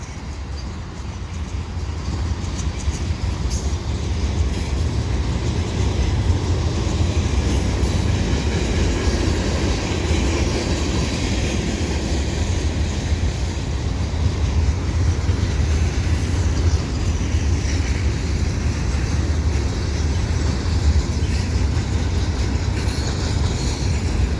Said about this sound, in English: Looks like the end of the train.